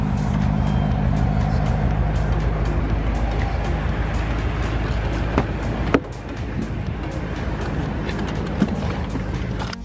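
BMW F10 M5 fitted with an Akrapovic exhaust and downpipes, a deep, steady engine rumble heard close by, with a few sharp clicks and a brief dip in level partway through.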